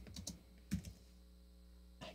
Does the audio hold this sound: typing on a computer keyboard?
yes